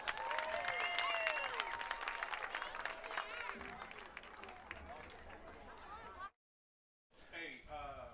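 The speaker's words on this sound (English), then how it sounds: "Ladies and gentlemen, please give Mr. Broken Starkey a round of applause." A crowd at a high school varsity baseball game between St. Amant High and Dutchtown claps and cheers, moderately loud, with voices and announcer-like speech mixed in, then a brief silence before talk resumes.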